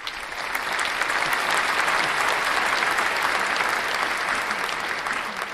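A crowd breaks into sustained applause, dense clapping that swells in quickly and holds steady at a loud level for several seconds without talk over it.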